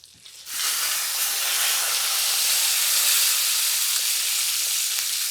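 Pork chop searing on its fat side in a hot pan, a loud steady sizzle that bursts in suddenly and holds as a dense bright hiss, with no talking.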